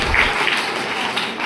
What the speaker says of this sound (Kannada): ದಯವಿಟ್ಟು ಒಂದು ಜೋರಾಗಿ ಚಪ್ಪಾಳೆ ಕೊಡಿ.